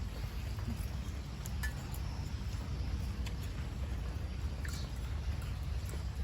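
Continuous rain patters with a low rumble underneath, scattered drips and small clinks rising over the steady wash.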